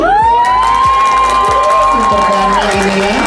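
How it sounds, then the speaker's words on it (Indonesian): Audience at a luxurious Ramadan iftar gathering cheers and whoops loudly, a dense crowd roar with rising shouts and a sustained tonal cry, over steady low thumps throughout. "Tepuk tangan."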